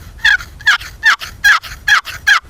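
A hand turkey call imitating drawn-out gobbler yelps: six loud, raspy, evenly spaced notes, close and with no other sound.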